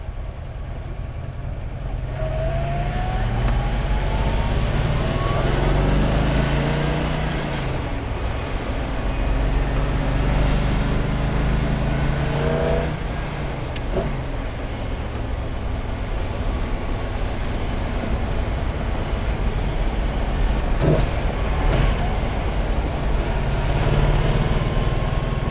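A 1961 Corvette drives along with a steady, loud engine and road roar throughout, the engine note rising and falling slightly as it cruises, with no talking over it.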